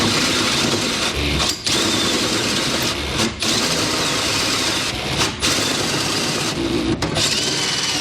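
A power drill whirs steadily through plywood during a fifth wheel trailer hitch installation in a 2014 Ram 2500, broken by a few brief pauses where the motor cuts out and restarts; loud and close.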